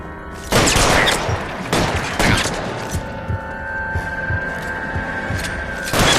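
Gunfire in the L.A. Noire video game on PS4 Pro, several loud bursts of shots spread over a few seconds over a steady game backdrop with a sustained tonal hum, no talk.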